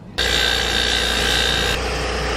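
A power grinder smooths rough, freshly sawn wood for a birdhouse, kicking in abruptly and holding a loud, steady whine close by, with a slight drop in tone near the end.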